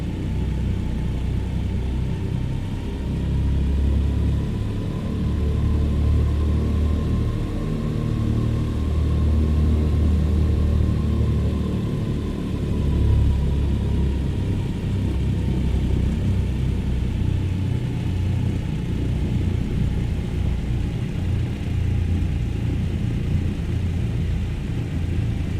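Twin piston engines of a DC-3 taking off in Microsoft Flight Simulator, a deep steady droning rumble with a faint rising whine, loud and continuous throughout, with no talking.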